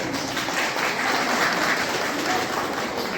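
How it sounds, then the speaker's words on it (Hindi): Loud, sustained applause from a seated audience at an anganwadi workers' union meeting, welcoming a guest onto the stage, a dense wash of clapping lasting a few seconds with no talk. "जोरदार तालियों से स्वागत।"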